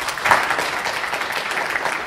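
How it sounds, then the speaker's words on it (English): Brief burst of audience applause after a panel discussion at a healthcare IT leaders forum, dense clapping that stays steady for about two seconds. "Please give them a round of applause"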